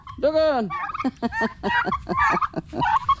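A turkey gobbles in a rapid, warbling burst, then keeps up a series of loud, close gobbling calls with no talking.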